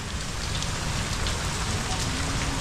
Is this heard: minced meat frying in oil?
no